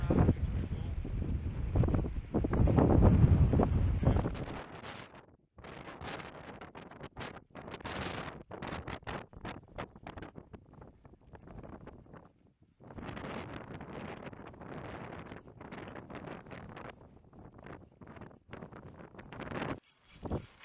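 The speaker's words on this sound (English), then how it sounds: "we're on the way back down and it's windy as hell" Strong wind on a mountain descent in the Carneddau near Ffynnon Lloer in February buffets the microphone in heavy gusts, loudest at the start, then roaring on and off with brief lulls.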